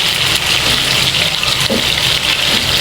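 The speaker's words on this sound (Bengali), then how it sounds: "আমি হচ্ছে ঢেঁড়সগুলো ভালোভাবে ধুয়ে নিচ্ছি।" Okra is washed under a running kitchen tap, a loud, continuous gush of water splashing close by with slight shifts as the pods are handled.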